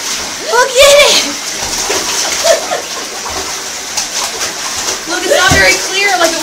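A dog splashing about in bathtub water, with gushing and splattering while excited voices talk over the commotion.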